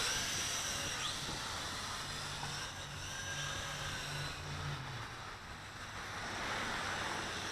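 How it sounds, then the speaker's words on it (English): Gusty wind blows outdoors, a steady broadband rush that swells and eases over several seconds, with a faint low hum beneath it and no talking. "it's a little windy out today"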